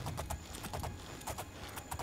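Horse hooves clip-clopping in the Oblivion video game, a steady repeated rhythm of close, moderately loud hoofbeats against a constant background hum.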